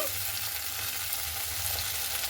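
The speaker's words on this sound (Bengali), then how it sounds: "এবারে আমি দিয়ে দিচ্ছি সেই সাবুদানাগুলো" Drained sago pearls go into a hot pan of oil for a sago pulao, giving a steady close sizzle and frying crackle with light stirring scrapes, no talking.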